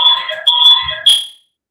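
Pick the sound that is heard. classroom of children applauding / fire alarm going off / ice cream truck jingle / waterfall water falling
fire alarm going off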